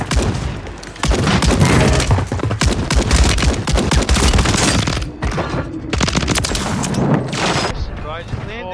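Dense video game gunfire rattles in rapid bursts, loud and close, with heavy overlapping shots and booms filling nearly the whole stretch, and a voice mixed underneath.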